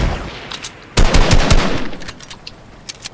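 Rapid bursts of gunfire in a shooter video game, sharp cracks clustered loudly in the first half, then scattered fainter shots trailing off, with no voices.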